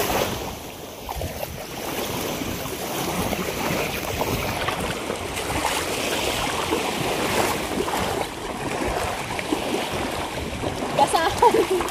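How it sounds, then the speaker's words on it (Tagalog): Sea waves wash and churn around a small fishing boat on choppy water ahead of rain, a constant rough rushing with wind buffeting the microphone, while a voice talks over it. "Kahit may alon na dahil uulan na,"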